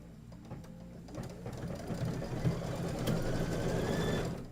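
An embroidery sewing machine stitching a quilt block after starting, a rising mechanical hum with rapid rhythmic needle chatter building steadily in loudness, close by with no talking.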